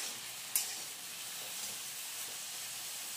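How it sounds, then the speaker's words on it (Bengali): Vegetables fry in a pan with a soft, continuous sizzling hiss and a single brief clink near the start, faint and without talk. "একটু ভাজা ভাজা হোক এটা।"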